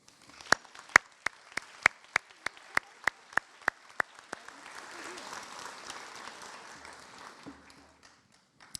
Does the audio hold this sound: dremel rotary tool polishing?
no